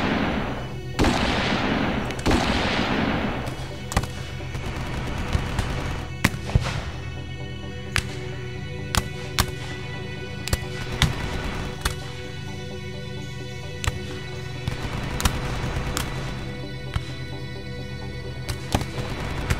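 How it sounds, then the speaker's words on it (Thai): Gunfire sound effects in a Thai horror story about soldiers ambushed on duty: a series of sharp, loud reports at irregular intervals throughout, with a rolling burst near the start, over a dense, continuous background. "แต่แล้วเสียงปืนก็ดังขึ้น"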